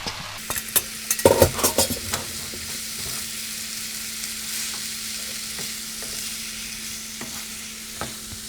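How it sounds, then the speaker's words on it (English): Egg noodles get stirred into frying meat and vegetables for chow mein, starting with a burst of clattering scrapes and tosses, then settling into a steady, close sizzle broken by occasional utensil taps. "The next thing to add is the egg noodles. So add them slowly and start stirring."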